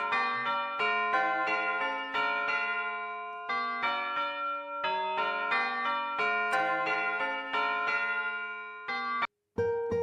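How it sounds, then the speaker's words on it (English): Tubular bells from the Pianoteq 8 virtual instrument on iOS ring out in a melodic sequence of metallic strikes with shimmering sustained overtones, close and clear, breaking off near the end before a few last notes. "Tubular bells."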